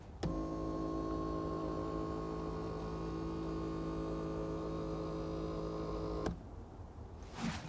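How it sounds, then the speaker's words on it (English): The electric motor that moves the seat base in a 2020 Mazda 6 whirs with a steady, fairly loud tonal whine for about six seconds, then cuts off abruptly, leaving quiet cabin noise. "The electric motor which moves the seat base is really noisy"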